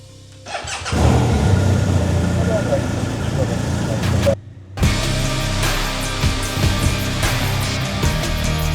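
A police motorcycle engine starts up and runs steadily nearby with a medium-pitched rumble. It cuts out briefly, then resumes with a continuous idle and a few light revs.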